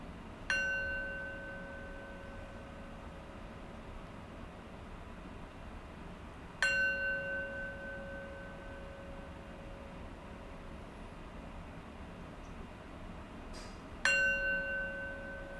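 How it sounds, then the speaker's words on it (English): Meditation bell struck three times at slow, even intervals, each strike a clear ringing tone that fades away gradually before the next, alone in a quiet room. "I'll close practice with 3 rings of the bell."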